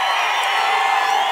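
A Telugu Desam Party political rally crowd cheers and claps in a dense, unbroken roar that stays loud and close throughout.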